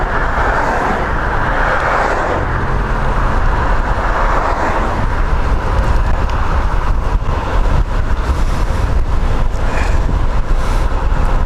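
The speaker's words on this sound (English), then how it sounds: "gotta get out of the wind." Wind buffets the microphone while driving on icy roads, a steady loud roar of rumbling low-end gusts lasting the whole stretch, with no talking.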